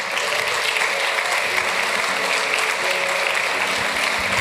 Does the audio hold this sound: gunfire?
no